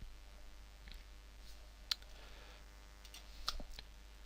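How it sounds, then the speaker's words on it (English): Faint computer mouse click on a submit button in a quiet room, with a couple of soft, brief ticks over low background hum. "and I click submit"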